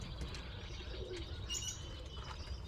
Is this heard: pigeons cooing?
yes